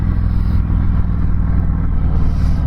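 A 2019 Harley-Davidson Road Glide with stock exhaust rumbles loud and close, a deep steady throb holding for a few seconds without clear rises in pitch.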